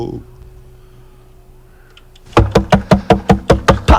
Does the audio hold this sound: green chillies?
no